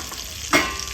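Crushed garlic fries in hot oil in a pan, a steady soft sizzle with one brief scraping stir midway, close and alone.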